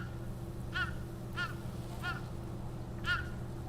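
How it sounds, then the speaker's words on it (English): Crow cawing in the video game Ghost of Yotei, four separate harsh caws spaced about a second apart over a steady low ambient rumble of wind, moderately distant. "A crow. She has a lot to say."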